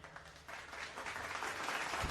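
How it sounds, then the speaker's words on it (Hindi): An audience claps together at a Jain Panch Kalyanak consecration festival, a soft, steady wash of applause heard from some distance, with faint voices underneath. "हम लोग तालियों की अनुमोदना करें।"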